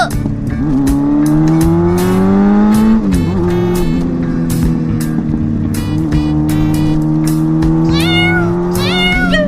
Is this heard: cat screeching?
yes